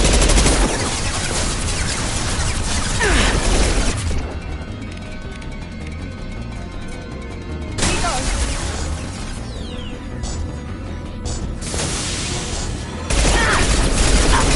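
Heavy gunfire in the sci-fi shooter Mass Effect 2, with dense, loud sustained volleys and booming impacts layered over a constant combat din for the whole stretch.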